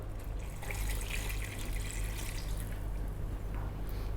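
Water pours in a steady, soft splashing stream into a blender holding tomatoes and curry ingredients, faint and continuous with no talking.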